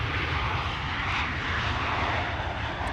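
A Boeing 767-400 airliner arriving at Amsterdam Schiphol Airport gives a steady, broadband jet engine roar that holds loud and even throughout, with no voices.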